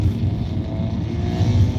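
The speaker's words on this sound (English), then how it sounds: "Whoa, listen to that fierce car." A loud car drives past on the street with a rough, throaty engine roar that swells, dips and swells again in a short burst, with no talking.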